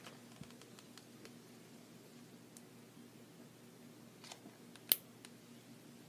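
Scissors snipping material for a handmade tractor birthday card in a quiet room: faint scattered clicks, then one sharp, close cut near the end, with no talking.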